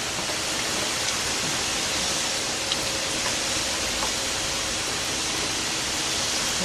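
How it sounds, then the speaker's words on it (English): Beef stew simmering in a pot on the stove gives a steady, dense bubbling hiss, constant and unbroken for several seconds, close with no voices. "that's a pretty nice simmer"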